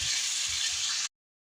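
Oxtail goes into a hot pan with onion and garlic and sizzles loudly in a steady, dense hiss for about a second, then cuts off into silence.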